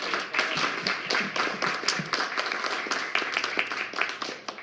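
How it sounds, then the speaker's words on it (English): Audience applause at a union candidate forum, sharp individual claps from a modest crowd forming an uneven patter close by. "So let's give a round of applause."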